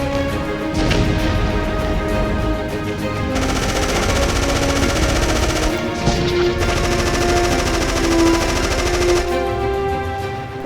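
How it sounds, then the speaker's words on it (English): Machine gun fire in a World War II beach battle, sustained rapid bursts rattling continuously at high volume with rumbling combat noise beneath. "They started shooting at us then"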